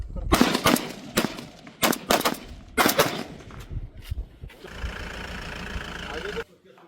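BSF troops firing weapons at the Jaisalmer border: several loud, close bursts of rapid gunfire in the first few seconds, followed by a steady engine-like rumble that cuts off abruptly.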